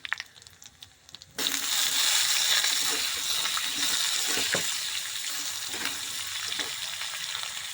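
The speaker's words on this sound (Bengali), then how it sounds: "লঙ্কাটা ভাজা হয়ে এসছে, এবার পাঁচফোড়নটা দিয়ে দিলাম" A loud, steady sizzle bursts out as dry chillies, panch phoron and bay leaf hit hot oil and keep crackling close by, with occasional light pops.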